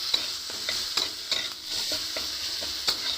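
Ginger stirred with tomato and turmeric in a frying pan for a vegetarian soybean dish, a spoon scraping in repeated strokes over a steady close sizzle, with no talking.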